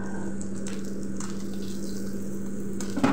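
Omani lotta, or Bombay duck fish, frying in oil, a constant close sizzle with a low steady hum underneath and occasional soft crackles, ending in a brief knock, with no talking.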